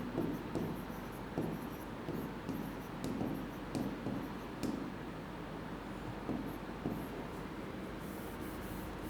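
Pen or chalk writing out prime factors during a math lesson, steady scratchy strokes repeating in short bursts over a constant low background hum, no talking.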